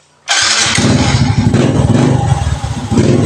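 A Suzuki Smash motorcycle engine with a swapped universal ignition coil catches abruptly and settles into a loud, close, steady idle putter, with no talk.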